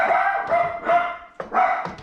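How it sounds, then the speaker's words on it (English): Several dogs barking in a home kitchen, repeated loud yips and barks in quick bursts close by, with a brief gap before a final run of barks. "my dogs are going on"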